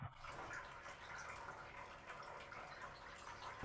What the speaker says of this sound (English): Here's the second dripping sound.